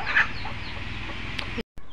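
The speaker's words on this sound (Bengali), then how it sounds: "মুরগিগুলোকে খেতে দিলাম" Chickens cluck around a feeding spot, with one sharper cluck standing out early over a steady farmyard background, ending in a brief cut to silence.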